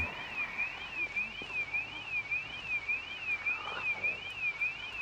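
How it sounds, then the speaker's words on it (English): A car alarm set off by a zombie in Project Zomboid wails at a steady, rapid up-and-down warble, fairly distant and faint under a dense bed of ambient noise. "Some zombie set off an alarm already."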